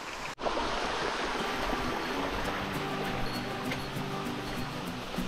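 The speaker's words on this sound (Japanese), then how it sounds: "これが2の滝なの。" Waterfall on the Shiretoko Peninsula in Hokkaido: a steady, broadband rush of falling water, fairly distant and even, with a brief knock at the start and no speech.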